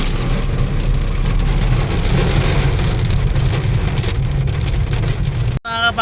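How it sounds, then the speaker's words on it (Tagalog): Heavy rain pours down in a dense, continuous hiss, with a low rumble beneath it, loud and close, then cuts off abruptly near the end. "sobrang lakas na ng ulan"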